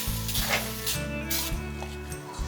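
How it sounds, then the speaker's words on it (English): A hissing sizzle from oven cleaner reacting on rusty, painted metal, with rubbing and handling noises in the background. "It's sizzling, that's a good sound."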